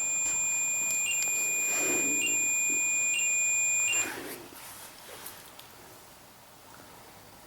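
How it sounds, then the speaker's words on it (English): A REM pod ghost-hunting device on a kitchen table in a hotel blares a steady, loud electronic beeping alarm tone with brief rhythmic breaks, then cuts out abruptly, leaving quiet room noise. "the REM pod I placed on the kitchen table began buzzing wildly"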